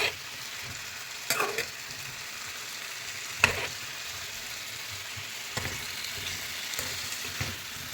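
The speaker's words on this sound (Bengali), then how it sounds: "ফার্স্টে আলু আর ফুলকপিটা ভেজে নেব।" Potato and cauliflower pieces frying in oil in a pan, a soft steady sizzle with a few sharp scraping stirs spaced through the stretch.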